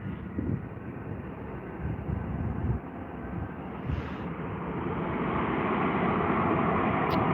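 A British Airways airliner in oneworld livery at Heathrow Airport, heard as a steady broadband jet roar that builds gradually and stays loud throughout, with wind buffeting the microphone.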